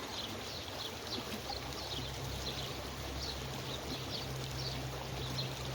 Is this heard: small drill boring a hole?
no